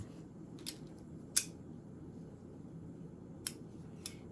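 Scissors snipping through decorating material while making a cupcake bow, a few quiet, isolated crisp snips spaced apart over a low background hum.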